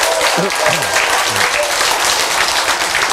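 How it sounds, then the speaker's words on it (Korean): Lecture audience applauding, steady dense clapping for a few seconds with a voice briefly heard over it. "박수가 치기 싫어도 어떻게 치는 선택을 하시라"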